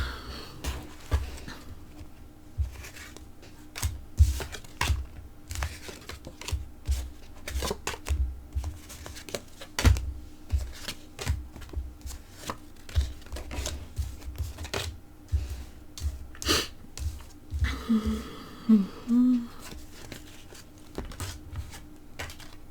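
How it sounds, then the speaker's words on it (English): Oracle cards shuffled by hand in a long, steady run of close, crisp riffling and flicking bursts, with a brief pause and small shuffling noises near the end. "I'll pull some more oracle cards."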